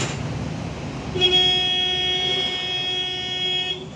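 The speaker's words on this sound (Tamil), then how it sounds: "இது ஒரு சாதாரண பைக் ஹாரன் தான் இருக்குது." A bus horn sounds like a motorbike horn, a steady, thin tone continuing for a few seconds, reedy and not very deep, over a low rumbling engine background.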